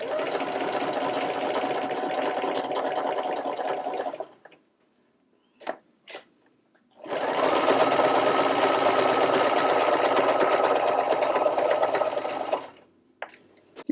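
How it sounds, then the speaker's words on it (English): A sewing machine stitches through punched vegan leather in two steady runs of about four and five seconds, loud and close, separated by a short quiet pause with a few small clicks. "we'll just go ahead and run that through as well on the punched vegan leather product"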